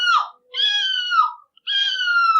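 A woman imitates a seagull screech with three close, clear calls. A short first cry is followed by two longer, wavering wails, separated by brief silences.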